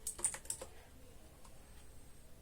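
Quiet keystrokes on a computer keyboard as a Linux package-manager command is typed, a few soft clicks near the start and then fading into low background hiss.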